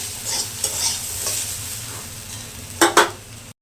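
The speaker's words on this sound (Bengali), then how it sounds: "আর এই যে আলু ভাজছি" Potatoes fry in a pan with a steady sizzle while a spatula stirs them, and two sharp scraping knocks come near the end.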